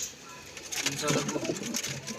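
Pigeons, including a fantail pigeon, coo softly in short repeated calls while a person talks over them nearby.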